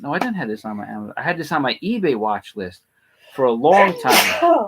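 A person sneezes once, loud and close, a short noisy burst right after a stretch of conversational talk.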